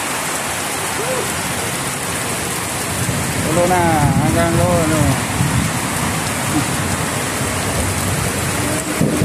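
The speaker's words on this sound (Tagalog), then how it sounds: "Ayan na, inabutan na ng ulan." Heavy rain pours steadily with a dense hiss in Rosario, Cavite, Philippines, while a person speaks briefly over the downpour.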